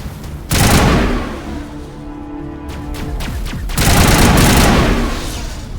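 Sustained gunfire in Mass Effect Legendary Edition, dense bursts of rapid shots with booming impacts, loud and continuous across the whole stretch, swelling again near the end.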